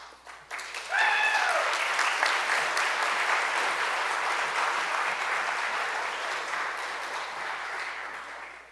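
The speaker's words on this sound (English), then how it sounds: "we're going to hold applause until the very end" Audience applause at a presidential export awards ceremony, a sustained wash of clapping that swells in after a short musical flourish and holds fairly steady before slowly easing off.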